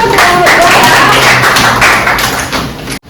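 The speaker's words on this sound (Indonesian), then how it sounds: "Tepuk tangan dulu." Classroom clapping after a student group's presentation: loud, close, rapid hand claps in a thick continuous burst that cuts off abruptly near the end.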